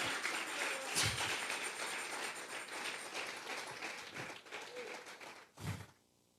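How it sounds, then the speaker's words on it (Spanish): Congregation clapping during a Sunday church service, a dense, steady wash of applause lasting several seconds before tapering off, with a few louder individual claps near the end. "Vamos a regalarle ofrenda de palmas al Dios de la gloria."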